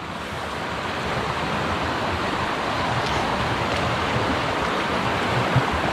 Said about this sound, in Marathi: आणि अजून पाण्याचा फ्लो वाढतच चाललाय